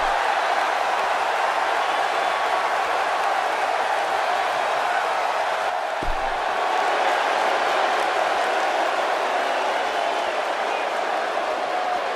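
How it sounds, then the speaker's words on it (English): A loud wrestling arena crowd in the video game WWE 2K18 roars and cheers continuously, a dense wash of noise that holds steady throughout. "Would you listen to this crowd?"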